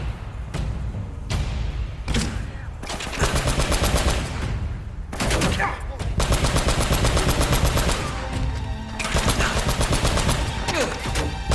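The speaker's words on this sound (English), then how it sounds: "Big bad turret's gonna find you." Turret machine gun in the video game Uncharted, firing loud rapid sustained bursts with brief pauses between them, alongside heavy impacts and gunfire thuds in the game.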